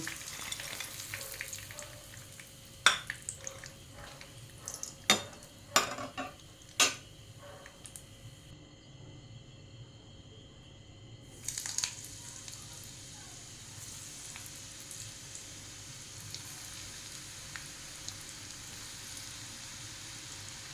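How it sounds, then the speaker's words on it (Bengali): Pieces of chicken kurkure fry in hot oil with a steady, soft sizzle, broken early on by a few sharp clicks and taps of a utensil against the pan. "এভাবে আমি বাকি চিকেনগুলোকেও ভেজে নেব।"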